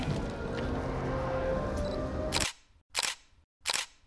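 Camera shutter clicks three times in quick succession, sharp and close, following a stretch of dense ambient noise.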